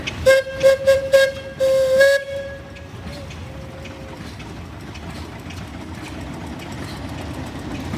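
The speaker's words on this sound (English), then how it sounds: "Just a big old Avery underslung engine down in the bottom of it." An Avery underslung steam engine in a grand parade of equipment sounds several loud, sharp whistle blasts, followed by a steady low chuffing rumble as it runs past outdoors.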